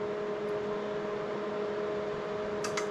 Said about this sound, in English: I press start now in the air fry